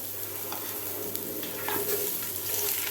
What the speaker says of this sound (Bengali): পেঁয়াজটা একটু ভাজা ভাজা করে নিলাম